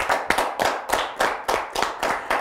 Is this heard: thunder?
no